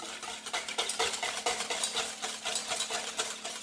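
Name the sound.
stirring a homemade monoi conditioner mixture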